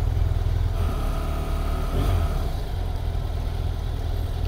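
A 2017 BMW F800 GT motorcycle engine idles close by with a steady low rumble, alone and with no talk over it.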